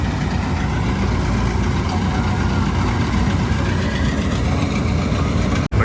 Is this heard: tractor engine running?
yes